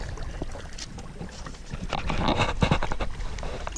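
A man paddles a small fishing boat across a freshwater river in Trinidad, the motor dead. Rhythmic paddle strokes splash and slosh close to the mic, growing steadily louder over the few seconds, with no talking.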